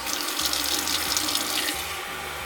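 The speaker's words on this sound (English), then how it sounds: "I'll put some water in." Water streams steadily from a kitchen tap into a cooking pot, a full, even rushing splash, close and fairly loud, with no voices.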